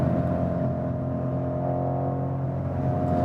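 Inside a 2019 BMW M550i on the move, the engine makes a steady, deep drone with road and wind noise, constant and unbroken throughout.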